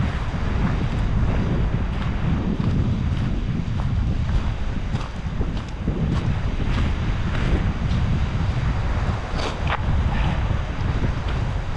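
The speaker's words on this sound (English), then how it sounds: "It's a little windy today." Strong wind buffeting over ocean waves near Seward, Alaska, heard from a kayak on the water, a continuous loud rushing roar with wave wash and microphone gusts, no voices.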